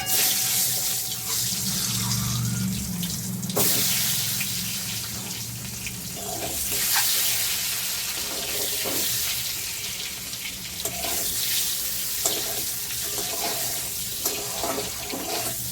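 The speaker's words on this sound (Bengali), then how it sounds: "দিয়ে এবার ডিমগুলোকে হালকা হাতে ভেজে নেবো।" Eggs frying gently in hot oil with turmeric and salt, giving a steady, close, hissing sizzle with small crackles throughout and no speech.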